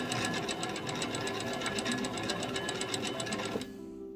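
A post-bed sewing machine runs its mechanism steadily, the needle driving up and down in a fast even rhythm, close and clear, then slowing to a low hum near the end.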